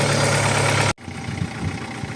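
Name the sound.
Audi 80 engine idling with knocking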